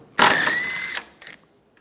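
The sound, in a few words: ratchet with 12mm socket removing tailgate latch bolts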